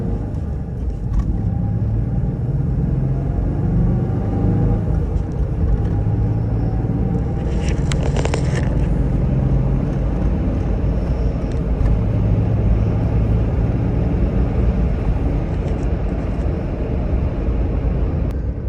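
A 1994 Ford Explorer 4.0L Sport with a five-speed manual gearbox driving along, its engine a steady low rumble with road noise running throughout and a brief higher-pitched rattle midway.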